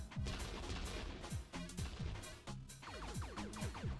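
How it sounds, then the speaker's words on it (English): Rapid gunfire bursts from a power gun in the video game Buck Bumble, loud and dense, with repeated blasts layered over a busy game soundtrack. "I think I need to switch to my power gun."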